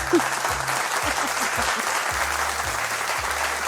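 A studio audience gives steady, dense applause throughout, with a rhythmic low thumping beat playing underneath.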